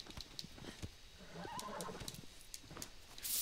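A horse in the video game Shadow of the Colossus whinnies and neighs amid clip-clopping hooves, fairly faint and close, with no talk over it.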